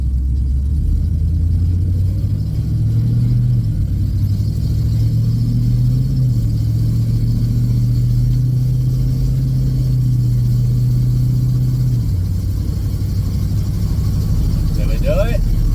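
A car engine on a test drive gives a steady, loud low drone that holds an even pitch, then drops away around the twelfth second while the rumble carries on.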